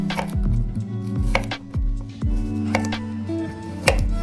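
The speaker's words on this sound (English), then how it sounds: "Cut the carrot into any shapes that you like. I'm cutting it into an oblique." A knife chops a carrot into oblique pieces on a cutting board, giving a steady series of sharp, close knocks about every half second, with no talking.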